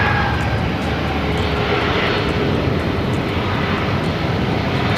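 A fixed-wing airliner roars steadily on approach to runway 8 at Phoenix Sky Harbor, a continuous broadband engine rush that stays loud and even throughout.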